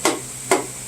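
Two sharp metallic hammer taps about half a second apart, close and fairly loud, each ringing briefly before fading, seating piston rings and rod bearings in a Ford 302 engine.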